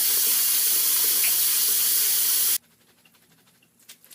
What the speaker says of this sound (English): rinse these thoroughly in very cold water